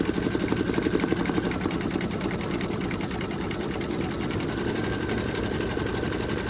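An embroidery machine stitches continuously, a fast mechanical chatter that holds steady and close throughout, with no voices.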